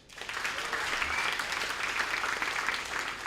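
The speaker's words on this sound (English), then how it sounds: "A round of applause for the last and final speaker of Tei Abal Secondary, Sandra Simon" Applause for a final debate speaker at a national school debate semifinal in Papua New Guinea, a steady crowd clapping that swells in quickly and holds evenly, slightly distant in the hall.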